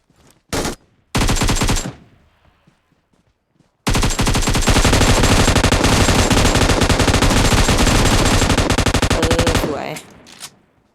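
Bursts of automatic gunfire from the mobile battle royale game PUBG Mobile: two short volleys early, then a long, loud sustained stream of rapid shots lasting about six seconds before cutting off, with a few scattered echoes trailing after.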